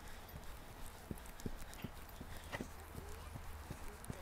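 A horse trots slowly at a riding lesson, its hooves striking in a steady, even clip-clop rhythm, faint and at a distance over a broad hiss of background noise.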